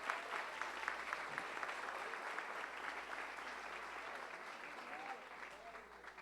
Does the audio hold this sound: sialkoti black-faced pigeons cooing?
no